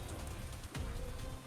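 Steady rain patters across surfaces as ambience for a tabletop role-playing session, a constant close wash of drops with a soft low thump partway through and no voices.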